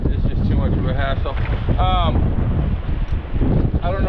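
Strong, gusty wind buffets a small boat crossing the Gulf in a small craft advisory, roaring loudly and continuously against the microphone while someone talks over it.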